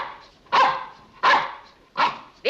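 A dog barks four times in a steady, evenly spaced rhythm, loud and close, with no talk over the barks and quiet gaps between them.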